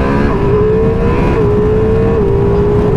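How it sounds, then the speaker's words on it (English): Ducati Multistrada V4 Rally motorcycle engine under steady load with a quick shifter, a loud continuous drone whose pitch steps slightly at a couple of quick upshifts, close to the rider, with no talk. "got the quick shifter"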